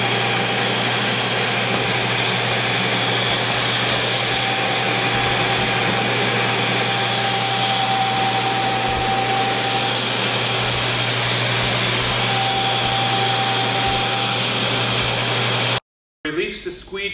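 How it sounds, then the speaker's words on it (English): A floor scrubber running with its vacuum and squeegees lowered while cleaning mats, a loud steady motor whine and suction roar held evenly before cutting off abruptly near the end. "What I'm demonstrating here is the cleaning of the mats while the vacuum and the squeegees are down."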